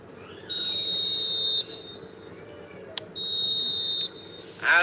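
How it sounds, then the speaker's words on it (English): A referee's whistle ends an eFootball match, sounding as two long, loud, steady shrill blasts with a short chirp between them and a brief burst at the very end, all without commentary. "And there goes the final whistle."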